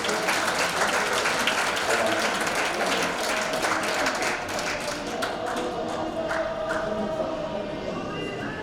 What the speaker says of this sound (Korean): 박수 한번 드려요